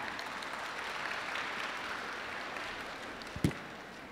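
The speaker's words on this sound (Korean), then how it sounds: "여러분 박수 부탁드립니다" Audience applause at a university admissions briefing, a steady wash of clapping from a crowd in a hall, moderately distant, ending with one sharp close thump.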